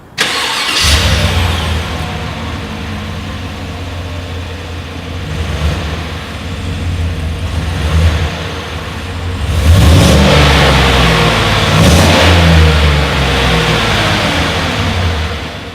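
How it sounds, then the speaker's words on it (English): A 2020 Chevrolet Tahoe engine cranks to life with a thick exhaust rumble, then revs up in several strong bursts before settling back to idle, close and loud. "As always, here is that exhaust clip."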